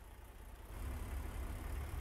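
Truck engine in American Truck Simulator turns over and catches, swelling from a quiet start into a deep, steady rumble that holds loud for the rest of the moment, with no talk.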